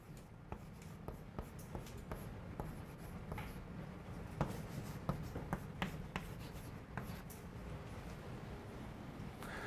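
Chalk or marker strokes on a board during a university calculus lecture, faint scratching and tapping in irregular short bursts over a quiet room hum, with no talking.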